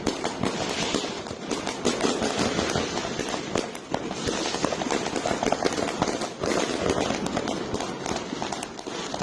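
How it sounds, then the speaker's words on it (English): An illegal fireworks display in the UK, a fast, dense crackle of bangs and pops going on without break, loud and sharp with no clear voices. "This illegal fireworks display going off like that, making all that racket, lighting up the sky."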